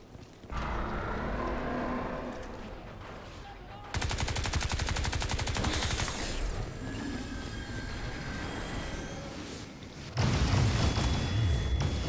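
Rapid gunfire from the Crysis 2 Remastered video game rattles in long automatic bursts with sharp onsets. A metallic mechanical drone runs beneath, and heavier bursts return near the end.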